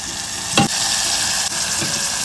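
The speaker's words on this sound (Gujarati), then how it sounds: "હવે આપણે વઘાર કરી લઈએ." Spices for tempering sizzle steadily in hot oil for a Kathiyawadi-style cluster bean dish, a loud continuous frying hiss with a couple of brief stirring clatters.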